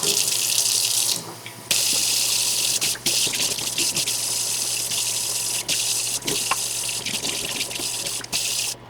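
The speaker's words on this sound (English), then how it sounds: "then rinse well" Coleus cutting roots are rinsed under a running kitchen tap, a steady close gush of water into a sink with small splashes and shifts as the roots move through the stream.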